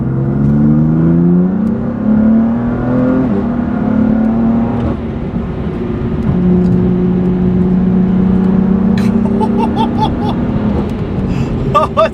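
BMW F8X with aftermarket intakes revving and accelerating, the engine note rising and shifting through several pulls with loud intake roar and brief crackles near the end, heard close from the car.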